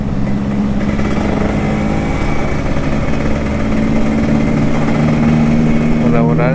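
A Kawasaki Ninja RR 150 sport motorcycle engine hums at a steady high idle in the rain, loud and close, with a voice talking over it and a brief rising rev near the end.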